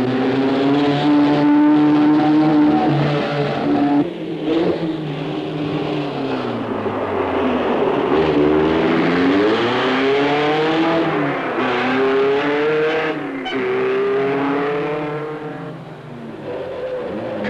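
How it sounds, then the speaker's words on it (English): A rally car on the 1972 Monte Carlo Rally roars loudly along a mountain road near La Turbie, its engine revving up and down through gear changes with rising and falling pitch, continuous and close. "In car number 21, Lampinen was still going well at La Turbie"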